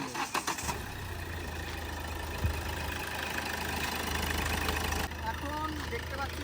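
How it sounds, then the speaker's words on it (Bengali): The diesel engine of a 2012 Hyundai Verna SX turns over after a few uneven bursts, then settles into a steady low idle that carries on close by under people talking. "এখন দেখতে পাচ্ছি ইঞ্জিনের আওয়াজটা সেরকম নেই, একদম ডিজেল ইঞ্জিনের যেমন সাউন্ড থাকা দরকার"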